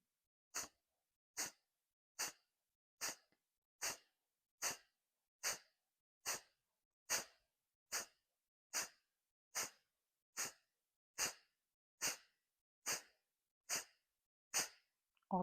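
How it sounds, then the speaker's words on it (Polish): Rapid, forceful Kapalbhati yoga breaths through the left nostril only pulse in a steady rhythm, about one sharp puff per second, close and isolated against silence. "Zatykamy naszą prawą dziurkę i oddychamy tylko lewą."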